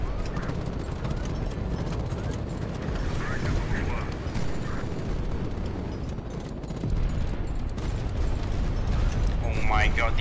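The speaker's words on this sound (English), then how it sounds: "Let's use some more missiles." Missile launches and impacts in the naval combat game HighFleet form a continuous rumbling barrage of booms and mechanical clatter, steady and fairly loud throughout, with faint tonal whistles near the end.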